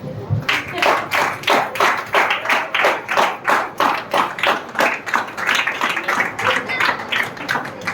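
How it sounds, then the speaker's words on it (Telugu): Wedding guests clap together in a steady rhythmic beat, loud and close, keeping an even pulse of around two claps per second throughout. "క్లాప్స్ కొడదాం."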